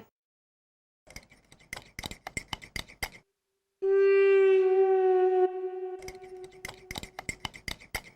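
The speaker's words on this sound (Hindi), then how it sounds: "ये चम्मच की आवाज तो आ रही है" A spoon clinks rapidly against a cup in quick bursts of bright taps, interrupted by a sustained siren-like tone before the clinking resumes.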